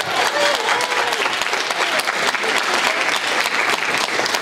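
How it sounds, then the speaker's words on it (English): Convention panel audience applauding for Liz's birthday at ConAgeddon 3, loud, dense, steady clapping throughout with faint voices mixed in. "Let's give Liz a round of applause."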